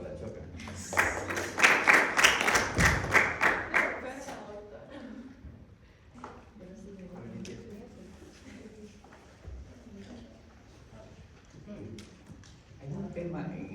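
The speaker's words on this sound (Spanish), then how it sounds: "Un aplauso para la Choca" Applause breaks out in a university surgery class and fades quickly. A burst of clapping lasts a few seconds, then trails into scattered claps under talk and room noise.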